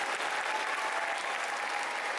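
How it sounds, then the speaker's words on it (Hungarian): Steady, dense applause from a large audience at a cosplay competition, continuous clapping at an even level throughout with no pauses. "Taps."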